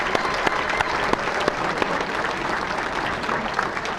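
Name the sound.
audience applause for banquet honorees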